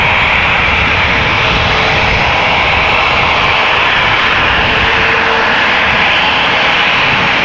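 At Amsterdam Schiphol Airport, jet airliner engines roar loud and close, a broad continuous rushing rumble that stays steady throughout with no talk.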